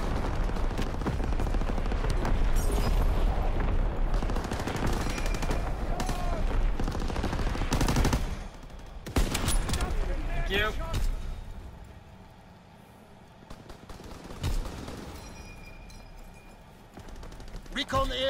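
Artillery barrage and gunfire in a WW2 sniping video game: dense, loud rumbling explosions and rapid shots pile up for several seconds, ease off into a quieter lull, then return with more booms.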